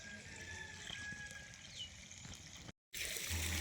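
Water trickles and splashes steadily while jasmine plants are watered in an open village field in the morning, a continuous close wash of sound that cuts out briefly near the end and then resumes.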